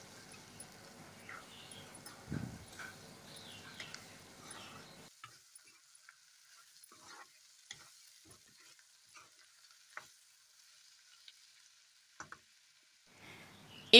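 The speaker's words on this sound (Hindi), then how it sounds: "एक बार फिर से भून लेते हैं चलाते हुए" Bitter gourd sabzi fries in a pan while being stirred, a faint sizzle under scattered scraping and tapping of a spatulas against the pan, quieter after the first few seconds with sparse clicks and knocks.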